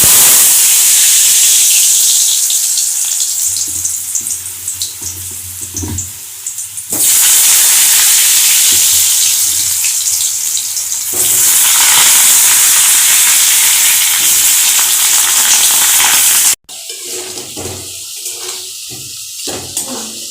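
Potatoes sizzle in mustard oil in a pan while a chicken curry is being made, a steady loud hiss of frying with brief shifts in intensity and a sudden drop near the end, no voices.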